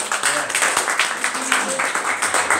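Church congregation applause, scattered clapping with voices murmuring and speaking over it, fairly close and moderately loud for a couple of seconds.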